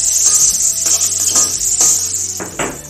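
Onions with table salt sauté in a pan for prawn biryani, with a soft hiss broken by a few distinct spoon scrapes and stirring strokes close by.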